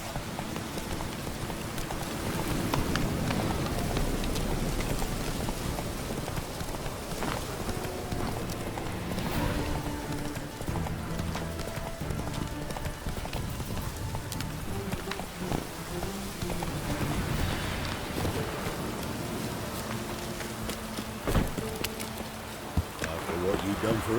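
Roach, the horse in The Witcher 3, clip-clops along in a steady rhythmic gait under game music and ambient rain, with character voices speaking over the hoofbeats.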